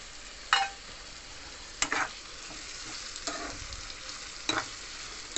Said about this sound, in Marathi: आता यामध्ये आपण टोमॅटो आणि हिरवी मिरची घालून घेऊया.